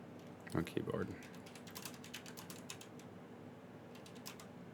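Rapid clicking keystrokes on a computer keyboard, a close run of light taps followed by a short second burst, with a brief murmur of speech at the start.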